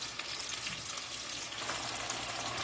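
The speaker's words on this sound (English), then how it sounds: "I'm frying the fish on a number 8" Fish fries in vegetable oil in a pan on a stovetop set fairly high, giving a steady, dense, close sizzle that stays even throughout with no voices.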